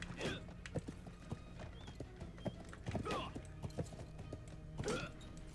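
Horse hooves clip-clop in the video game Blood of Steel. The sharp, fairly faint hoof knocks fall among other game sounds, and a person talks quietly over them.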